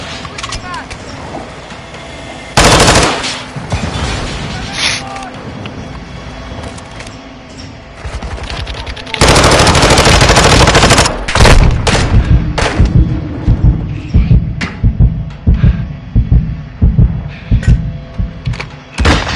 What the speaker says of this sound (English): But they shooting it up.